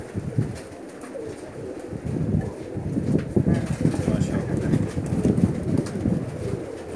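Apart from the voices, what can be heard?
pigeons cooing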